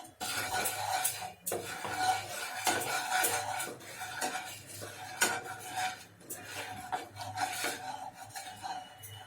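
A spoon stirs and scrapes coriander and Kashmiri red chili powder around a metal pan for palak paneer, with continuous rhythmic scraping and clinks close up, a faint sizzle underneath.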